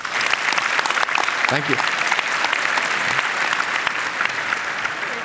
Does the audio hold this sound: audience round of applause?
yes